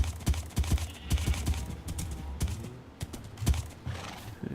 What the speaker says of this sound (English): Let's go down and put the horses in their corral.